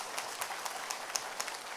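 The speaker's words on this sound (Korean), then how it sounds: "박수 쳐보세요." An audience claps at an Atomy network marketing company presentation, a faint, dense patter of many hands with a few sharper claps standing out, steady throughout with no voices.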